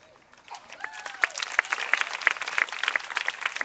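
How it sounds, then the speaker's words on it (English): A crowd at an outdoor vigil in Oakland breaks into clapping that builds from quiet into sharp, fairly even claps, with some voices heard early on. "they're already clapping for her"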